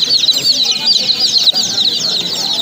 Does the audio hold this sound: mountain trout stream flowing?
no